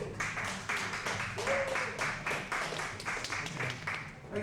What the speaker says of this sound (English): the ladies weren't applauding for me